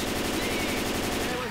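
An automatic rifle fires in rapid sustained bursts in the video game Left 4 Dead 2, a dense rattling stream of shots continuing without pause.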